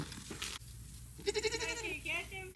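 A pet pig roaming loose around a 1991 mobile home gives a run of high, wavering squealing cries in the second half, close and fairly loud, after a stretch of rustling and faint voices.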